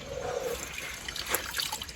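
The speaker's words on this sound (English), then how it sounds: "Now I get to wring it out, throw it in the rinse water." Laundry being wrung out by hand into a tub of rinse water in an off-grid setup: close splashing and trickling of water, with a brief burst of dripping near the end and no talking.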